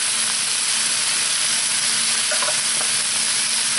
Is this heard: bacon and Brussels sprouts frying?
yes